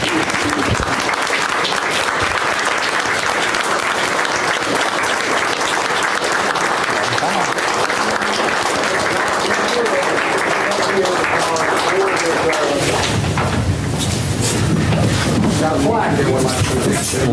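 An audience claps steadily for a retiring school director after 44 years in the school system, dense sustained applause that fills the room and grows a little brighter and fuller toward the end.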